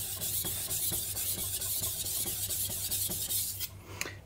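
A VG10 steel knife is pushed over a whetstone in quick, regular back-and-forth rasping strokes, close and scratchy, ending in a few lighter taps and scrapes.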